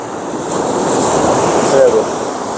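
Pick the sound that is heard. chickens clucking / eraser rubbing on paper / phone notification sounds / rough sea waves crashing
rough sea waves crashing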